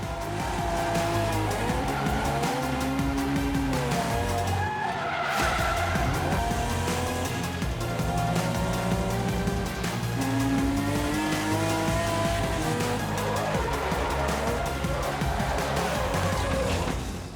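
A borrowed red car drifting with engine roaring and tires squealing in long sustained howls, loud and close, with a brief dip midway before the squeal resumes.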